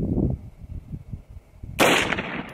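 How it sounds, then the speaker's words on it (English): A single loud AR-15 rifle shot cracks out at close range toward an armor test target, preceded by low outdoor rumble and handling noise. "I'm going to shoot a little higher this time"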